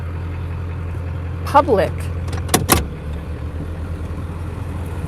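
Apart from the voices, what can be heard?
loud truck engine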